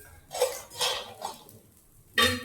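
A few short clinks and scrapes of a utensil against a metal pot as roasted edible gum is transferred into it, spaced apart, ending in a sharper clatter.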